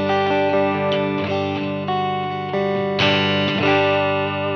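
An electric guitar plays through a Line 6 Helix modelling a Trainwreck Express-style amp with drive, sounding sustained overdriven chords that change every half second or so, loud and steady with no talk.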